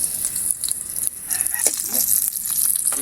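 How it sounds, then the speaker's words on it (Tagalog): Garlic and onion sauté in sweet oil in a home kitchen, making a continuous loud hissing sizzle with faint crackles and occasional stirring knocks, no talking. "Magigisa na tayo sa ating sweet oil."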